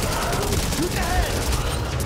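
Rapid gunfire in the Back 4 Blood co-op shooter, a dense steady stream of shots under faint game sounds and brief tonal squeals.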